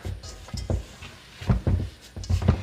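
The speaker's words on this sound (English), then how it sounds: "So I'm going to go ahead and knead it a little bit more." Survival cracker dough kneaded by hand makes soft, irregular thumps and squishes, close and fairly quiet, with a few clustered pressing sounds and brief pauses between them.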